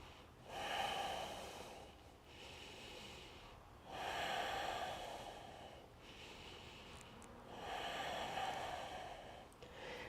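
Slow, deep breathing held through a yoga warrior pose: three long, even breath cycles, each a soft airy swell that fades before the next, close and fairly quiet.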